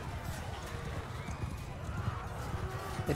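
Horses gallop in a cavalry battle in Mount & Blade II: Bannerlord, a steady drumming of many hooves with occasional whinnies, continuous and fairly close throughout.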